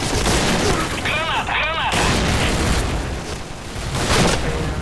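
Loud, dense gunfire and explosion noise from the online shooter Point Blank, with a booming grenade blast amid continuous rattling shots and chaotic battle sounds.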